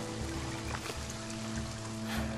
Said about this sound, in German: Aber ich hoffe, das mit dem Regen hört man bald auf.